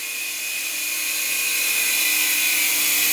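An S107 RC toy helicopter hovers indoors, its small electric rotor motor giving a steady, close, high-pitched whine that rises slightly in loudness over a few seconds.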